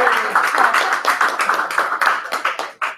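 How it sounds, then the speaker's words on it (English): A small audience claps for a presenter at a business lunch meeting, a close, fairly loud burst of hand claps in quick irregular rhythm that thins out toward the end. "I love when people clap for me."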